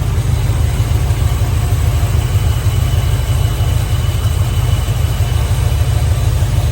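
A 1978 Ford F150 XLT pickup with a 400 engine idles steadily and close by, a continuous low rumble with no revving across the whole stretch.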